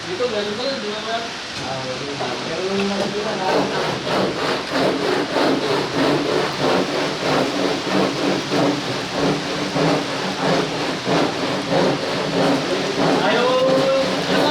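Heavy rain pours steadily and loudly throughout, a dense continuous wash with some rumbling underneath, while voices talk over it now and then.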